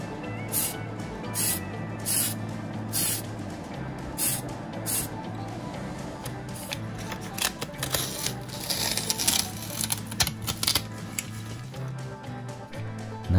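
Repeated short bursts of a spray can hissing as it paints 1/20 scale model truck interior parts, several separate sprays with brief pauses between them, close by, over a faint low hum.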